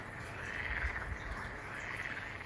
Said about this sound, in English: Imagine a croaking chorus of deafening noise.